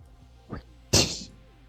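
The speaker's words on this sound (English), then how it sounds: "You sneezing or something?" A single sneeze bursts out sharply and close after a short intake of breath, with quiet room tone before and after.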